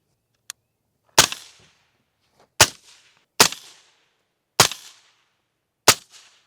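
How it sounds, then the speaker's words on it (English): Five sharp suppressed rifle shots ring out at a shooting range, evenly spaced about a second apart, each a crisp crack with a short decaying tail, loud and close, following a small click. "Minimal recoil, pretty quiet. Not gassy. That's a good can."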